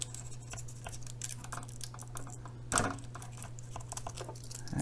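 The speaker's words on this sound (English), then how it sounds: "I'll just now trim off the excess Captain tape at the front here." Excess Kapton tape trimmed during an Amiga A500 rebuild, quiet close scratchy snips and ticks over a steady electrical hum, with one sharper crack partway through.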